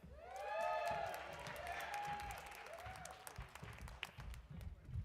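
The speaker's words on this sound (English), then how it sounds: "Wait for the applause." Audience at a university graduate hooding ceremony gives applause, soft, scattered claps spreading through the hall with some cheering and voices mixed in, fairly distant and quiet.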